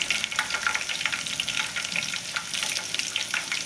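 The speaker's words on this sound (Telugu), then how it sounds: "కొద్దిగా కరివేపాకు వేస్తానండి." Curry leaves crackle and spit in hot oil during a tempering of cut dried red chillies and spice seeds for a simple tomato curry, a dense, steady sizzle with sharp pops throughout, close and alone with no talk.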